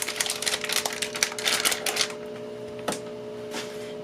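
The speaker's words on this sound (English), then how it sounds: "So we're going to just cut this ham up." Knife cutting up a honey-cured Smithfield ham, a run of quick, close crunchy chopping strikes on a board for about two seconds, then a quieter pause with a couple of isolated taps.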